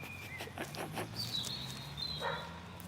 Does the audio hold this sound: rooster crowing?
no